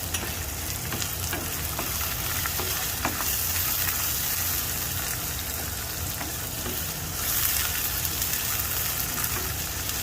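Green chillies frying in hot oil for upma, a continuous crackling sizzle with occasional stirring scrapes, close and steady throughout.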